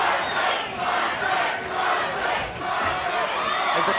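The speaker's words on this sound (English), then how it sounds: "As the crowd wills Frosty on." A boxing crowd at an Australian title fight roars and cheers on a fighter, a loud, sustained wash of many voices swelling and dipping in waves.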